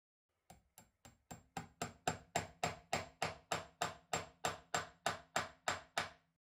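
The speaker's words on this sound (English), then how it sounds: "With a few gentle hammer blows, I tapped the pin back into position." About twenty evenly spaced, sharp metallic taps of a hammer driving a pin into a model steam engine crankshaft, starting soft and growing firmer, close and alone.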